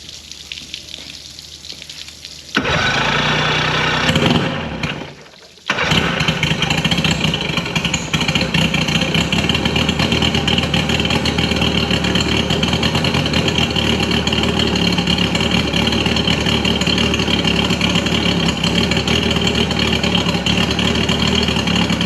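A Mercury 50hp outboard engine is started on a cold day, with a brief cranking burst, a short pause and a catch, then a steady, loud, rough idle running on without any talking.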